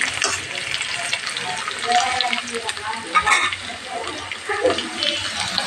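Onions sizzling and frying steadily in a pan for a mutton curry, a loud continuous crackle close by with occasional stirring scrapes and brief watery sounds.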